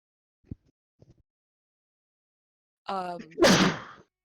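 A person sneezes once, loud and close, with a sharp voiced intake followed by a harsh burst of breath, after a few faint soft sounds in a quiet room during a tabletop role-playing game session.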